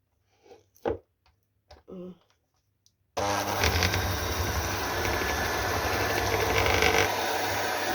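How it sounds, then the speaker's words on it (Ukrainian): Electric mixer beating soft butter until it turns white starts after a few faint knocks and handling sounds, then runs as a loud, steady close whir to the end. "І зараз прибиваємо масло, щоб воно побіліло"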